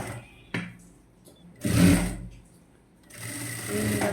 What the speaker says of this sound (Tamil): கீழே ஓரத்தில் 1/2 இன்ச்சு மடித்து தைச்சிடலாம்.